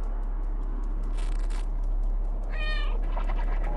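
A cat character in the video game Stray gives a few short, clear meows over a steady low game hum, the calls standing out near and alone without any talking.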